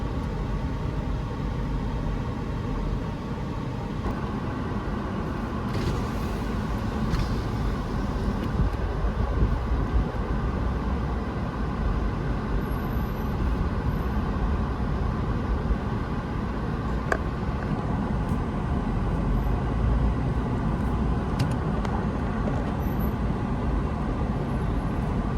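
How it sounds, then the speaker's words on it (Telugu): Heavy road traffic on Independence Day near Hoover Dam, heard as a steady, continuous broadband rumble of engines and tyres with no pauses and no talking. "ఈరోజు స్పెషల్ ఈవెంట్ కదా, చాలా ట్రాఫిక్ ఉంది."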